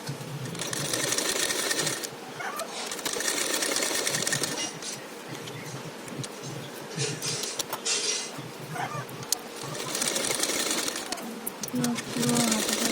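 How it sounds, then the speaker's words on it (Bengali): Sewing machine stitching a lining onto the main fabric of a blouse sleeve, a close, steady rapid whirring and clatter in several runs separated by short pauses, with a person talking over it. "পুরো হাতাটার উপর সেলাই করে নিচ্ছি আস্তারটার মেন ফেব্রিকের উপরে।"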